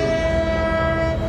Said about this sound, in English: I've got a kind of classic air horn sample